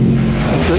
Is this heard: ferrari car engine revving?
yes